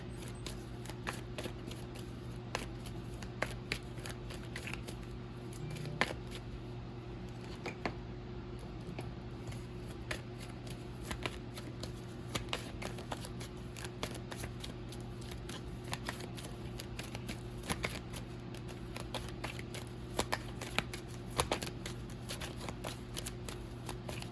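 Tarot cards from a self-designed deck being shuffled, a steady run of soft riffling flicks and taps close by over a constant low hum, with no talking.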